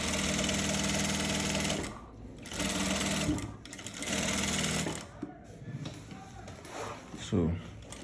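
Sewing machine running in bursts while stitching a trouser zipper fly, loud and close, with several start-stop runs and quieter pauses between them.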